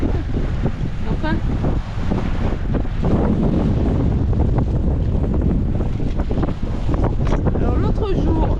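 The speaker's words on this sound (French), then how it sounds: "Et là maintenant il y a trop de vent." Strong gusting wind buffets the microphone aboard a sailboat under way on a summer cruise off Corsica, roaring steadily throughout with water rushing along the hull and people talking over it.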